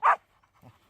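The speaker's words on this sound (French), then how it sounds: "un chien qui aboie, bien entendu" A Wachtelhund gives a single sharp close bark at a found boar during a blood-tracking exercise, followed by quieter short yips and whimpers.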